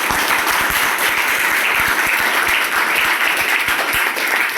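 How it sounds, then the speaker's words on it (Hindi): Classroom students break into sustained applause, a dense patter of many hands clapping together for a few seconds without pause. "इसलिए तुम लोग इसके लिए तालियां बजाओ।"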